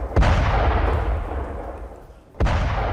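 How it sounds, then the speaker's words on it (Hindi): Bombing by the Israeli army in southern Lebanon: a heavy blast with a long rumbling decay, then a second sharp explosion near the end, heard at a distance. "इजरायली सेना की तार में बमबारी की तस्वीरें।"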